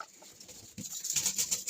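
Pigeons in a coop, faint soft bird sounds with light pattering and shuffling, quiet and close throughout.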